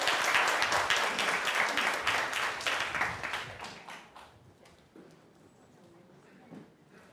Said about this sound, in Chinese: 我们最后再一次用掌声接纳他们。